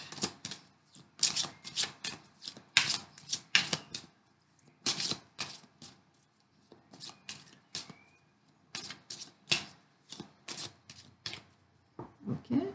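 Tarot cards being shuffled for a reading, heard as repeated bursts of riffling and slapping in clustered rhythmic runs, fairly close and alone with no talking.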